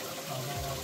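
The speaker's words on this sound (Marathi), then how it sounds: "एकदम थंडगार पाणी, फ्रेश होऊ शकता आणि पाणी पिऊ सुद्धा शकता।" Cold water flowing steadily at Raigad fort, a soft continuous gush like a tap or spout running close by, fairly quiet and unbroken for under a second.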